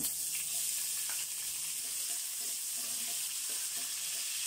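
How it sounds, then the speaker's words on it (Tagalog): Garlic sautéing in cooking oil in a pan for beef kare-kare, a steady close sizzle and crackle throughout with faint stirring scrapes. "So naglagay na ako ng mantika. Lagyan na natin dito ang bawang."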